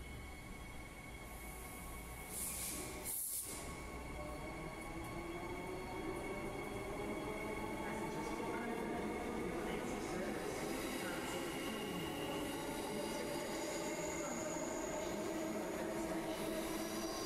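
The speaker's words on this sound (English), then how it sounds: "there's also another train that just came through and went to Mandurah" A passenger train departing Elizabeth Quay Station rumbles steadily past, its broad mechanical roar building and holding throughout, with a brief sharp clack near the start.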